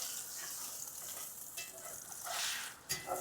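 Scrambled eggs sizzle and crackle in a well-seasoned cast iron pan with bacon grease, a dense steady frying hiss that swells briefly near the end.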